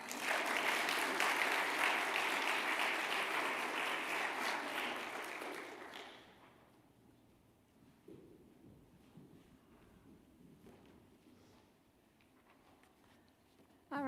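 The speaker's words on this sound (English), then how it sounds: "We'll go ahead and give them all a round of applause." Crowd applause at a school awards ceremony, loud and dense for about six seconds before fading out, leaving a quiet room with faint rustling and a few scattered sounds.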